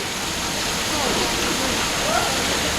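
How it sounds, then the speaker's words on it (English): Simulated rain and wind pour across a studio set during a post-production tour demonstration, a loud, steady broadband hiss of falling water with faint whistling tones above it and no break throughout. "we're gonna put on the rain, and I'm gonna add some wind"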